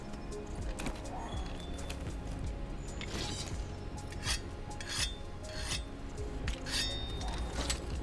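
A blade is drawn across a whetstone in a video game, giving repeated rasping strokes at irregular intervals over a busy, continuous background of game sound.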